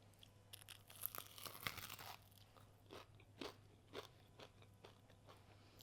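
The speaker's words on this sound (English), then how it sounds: "Immaculate crunch." Crisp crunching bites into fried potato party food made from a 1970s vintage cookbook, close and quiet, with a few sharp crackling bites followed by softer chewing crunches and no talking.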